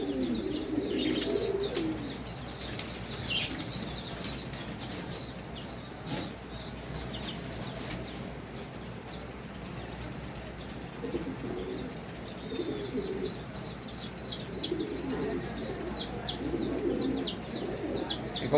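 Johnson bloodline racing pigeons in a loft coo steadily while wings flap and rustle in repeated bursts, a busy close-up flock sound lasting throughout with no talking.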